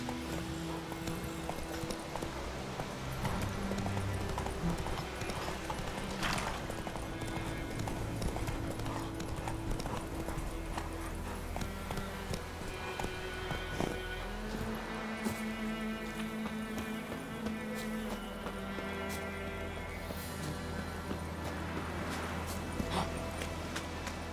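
Roach, the horse in The Witcher 3, trotting with a steady clip-clop of hooves, close and continuous over ambient game music with no talk.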